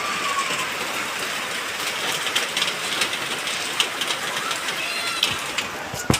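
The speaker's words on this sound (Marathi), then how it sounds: "खरंच खूप जोराचा पाऊस मस्त आलाय" Heavy rain pours in Vangani, a dense steady hiss of drops drumming on surfaces throughout, with occasional louder splashes near the end.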